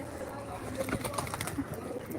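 A pet pigeon coos softly and close by, with a few low throaty calls under faint room noise and light handling sounds.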